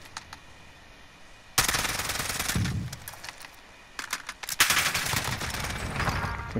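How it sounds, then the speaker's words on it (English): Video game gunfire: bursts of rapid automatic shots, first a quieter stretch, then a loud sustained burst for over a second and more rattling volleys later, close and sharp. "Stop shooting now."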